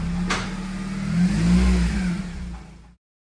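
A Honda Civic Type R FN2 with an induction kit, 4-to-1 manifold and aftermarket exhaust revs hard on a dyno, engine note climbing to a loud peak before cutting off abruptly.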